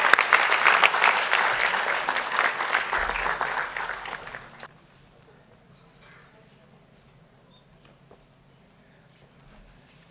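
An audience at the Bengaluru International Short Film Festival 2019 awards ceremony claps for the photographers. The applause is brisk and fairly loud for about four seconds, then fades away into near silence.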